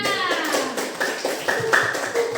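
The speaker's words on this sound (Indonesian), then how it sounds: "tepuk tangannya" Classmates applauding after a classroom presentation: a short spell of brisk, steady clapping from a small group indoors, with no talk over it.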